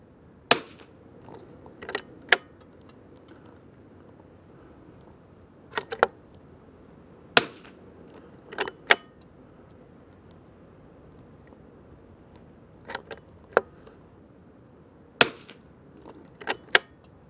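Rifle shots from match rifles such as a Winchester 52D, Kimber 82G or Remington 540X firing Federal Gold Medal Ultra Match ammunition at a 50-yard target: sharp, loud cracks spaced irregularly, some single and some in quick pairs, with no talk.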